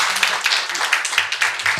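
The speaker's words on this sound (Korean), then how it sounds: "발표해 주신 네 분께 다시 한번 큰 박수 좀 부탁드리겠습니다" An audience at a policy colloquium claps for the presenters, a short burst of fairly loud, dense applause with overlapping hand claps.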